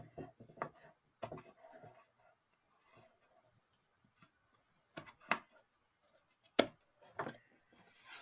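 Excess bits of a homemade pizza-style chocolate box are trimmed off in a handful of sharp, sparse cuts, quiet and close, with pauses between them and no talking.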